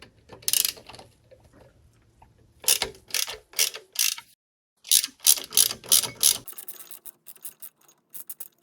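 A ratchet wrench loosens the 5mm rear engine mount bolts on a Sea-Doo GTX 951 DI jet ski, with several bursts of rapid close clicking separated by pauses, the last burst quicker and lighter.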